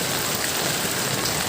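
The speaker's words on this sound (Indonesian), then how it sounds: "Ini airnya sangat deras mengalir di Jalan Sumatera." Fast-flowing flood water rushes along a street in the rain during a flood on the Banda Aceh–Medan road in Aceh Besar, a dense, steady roar of water and rain with no voices.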